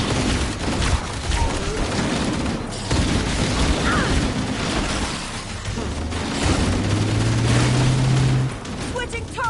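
A Halo firefight with a dense barrage of gunfire and booming explosions, bursts and shattering impacts in a continuous loud clamor.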